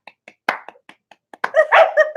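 A dog barks a few times, close and fairly loud, after a scattering of light claps and taps.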